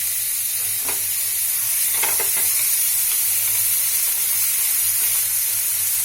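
Prawn paste fries in a hot pan, giving a loud, continuous sizzle and hiss with a few soft stirring scrapes, close up and with no voices.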